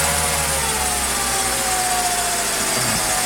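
A Mercedes M104 engine idles unevenly because of a faulty throttle body. Its steady mechanical hum wavers in pitch and sways up and down, continuous and close, with no voices.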